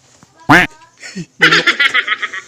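A hen's harsh, agitated squawk as her egg is taken, followed by a run of rapid, scolding clucks, close and loud, with a brief human sound in between.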